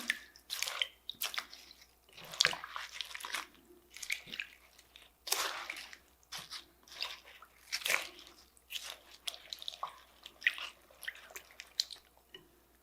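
Grapefruit and orange juice for a spicy apple sangria are stirred in a container, producing faint, intermittent liquid swishes and clinks in short bursts separated by quiet gaps.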